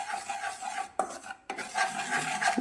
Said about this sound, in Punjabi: ਲਗਾਤਾਰ ਇਦਾਂ ਹਿਲਾਉਂਦੇ ਹੋਏ ਆਪਾਂ 1-2 ਮਿੰਟ ਤੱਕ ਇਹਨੂੰ ਬੇਸਨ ਨੂੰ ਭੁੰਨ ਲੈਣਾ ਹੈ